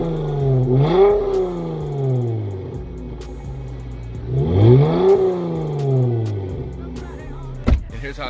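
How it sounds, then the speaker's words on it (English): Dodge Challenger with a Pentastar engine, heard from outside as two revs rising and falling a few seconds apart, loud and close, with a coarse exhaust drone between them and a brief click near the end. "it doesn't matter what you do to the exhaust on these Pentastar engines, it sounds like trash"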